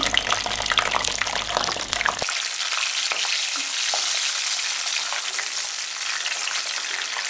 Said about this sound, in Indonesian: Minyaknya udah panas, kita goreng.